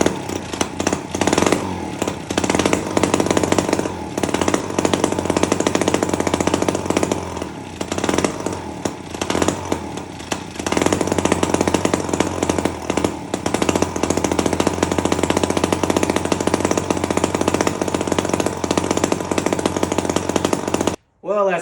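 An old chainsaw running on an external fuel filter, with a loud, continuous buzzing engine that wavers slightly for about twenty seconds before cutting off abruptly.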